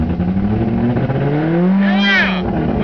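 An Eagle Talon's engine revs hard past 4,000 RPM, a loud, continuous roar that climbs in pitch and then sweeps up and falls back in a rising whine near the end, heard up close with no talk.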